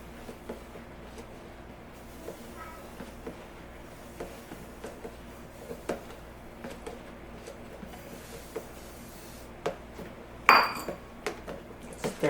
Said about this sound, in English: So you can hear kind of the salt at the bottom.